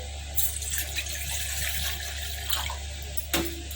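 A glass of water is poured into a pan for making ragi malt, a soft steady trickle close by with a few small splashes and clinks, no voices.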